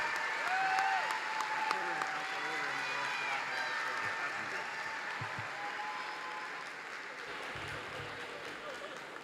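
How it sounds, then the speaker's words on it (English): Steady applause from a large university commencement audience runs throughout, a broad wash of clapping for new bachelor's degree recipients that slowly fades, with a voice speaking faintly over it. "How about another loud round of applause for our newer bachelor's degree recipients?"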